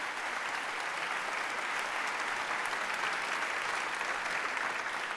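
Audience applause at the opening ceremony of the 30th Valdivia International Film Festival, a continuous, even roar of many hands clapping from a large crowd, with no pause or talk.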